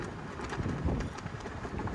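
Gusty wind buffets the microphone with a constant rumbling roar that rises and falls slightly throughout.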